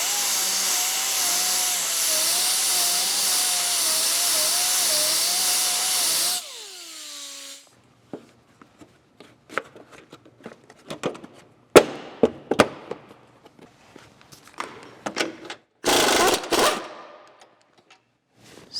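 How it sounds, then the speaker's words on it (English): A high-pitched rotary file with a barrel sander whines steadily for several seconds smoothing an edge, then winds down, followed by scattered clicks, knocks and a brief harsh burst. "I just have a rotary file with a barrel sander on it."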